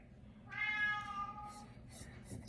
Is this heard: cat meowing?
yes